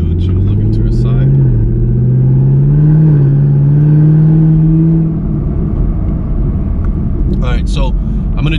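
A Chevrolet Camaro ZL1 accelerates hard, its supercharger whine rising in pitch over a loud engine roar for about five seconds before easing off to a steadier cruising rumble.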